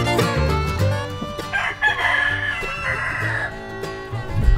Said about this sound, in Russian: Жирный петух.